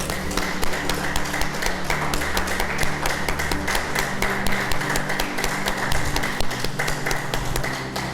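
Church congregation applauding: dense, loud, steady clapping from a big crowd that fills the whole stretch, with no speech over it.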